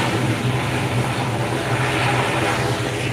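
A Singapore Airlines plane takes off at Phuket International Airport, a loud, dense engine roar with a steady low hum sustained evenly across the whole short stretch.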